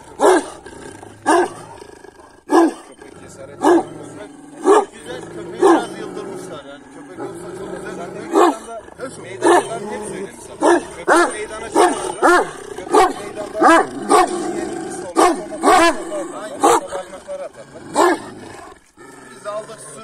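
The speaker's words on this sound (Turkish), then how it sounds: "Bu köpeği yeni getirdik" A newly brought farm dog barks over and over, loud and close, in sharp bursts at an uneven pace for about twenty seconds. A voice and other farm noise can be heard between the barks.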